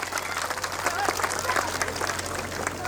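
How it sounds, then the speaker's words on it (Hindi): Crowd applauding at an outdoor Dussehra stage event in Shivalik City, Kharar: a steady wash of clapping from many people throughout, moderately loud, with a low electrical hum underneath. "बार जोरदार तालियां हो जाए, जोरदार तालियां।"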